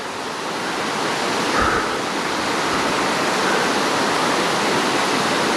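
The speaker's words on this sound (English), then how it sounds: "So there's the waterfall." Steady, dense roar of a waterfall in woodland near an old mine in Cornwall, broadband rushing water filling the whole clip at an even, close level with no voices.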